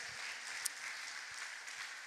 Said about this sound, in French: Est-ce que nous pourrions encore une fois applaudir le Seigneur pour sa fidélité?